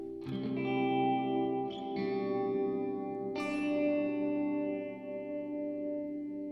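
A guitar played through a Chase Bliss Dark World reverb pedal rings out in sustained chords with a slight resonant emphasis, several strums blooming into a lush, lingering reverb tail, alone and clear.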